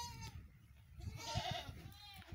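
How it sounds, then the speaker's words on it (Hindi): Rajanpuri goat bleating in a farm pen, a wavering nasal bleat rising near the middle, moderately close, with faint background noise. "अच्छी बकरी है हमारे पास, प्योर राजनपुरी माल है।"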